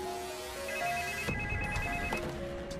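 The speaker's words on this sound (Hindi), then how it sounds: "और फिर से फोन लगाओ और स्पीकर पे रखो।" A telephone ringtone plays over a phone set to speakerphone, a steady repeating electronic ring with a melodic tone pattern, fairly loud and close, with no talking over it.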